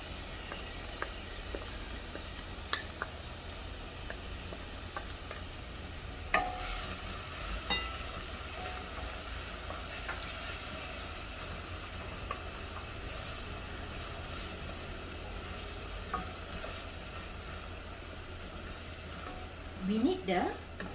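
Chopped onions sizzling and frying in melted butter in a pan, a soft continuous hiss with occasional stirring clicks and scrapes, fairly faint throughout.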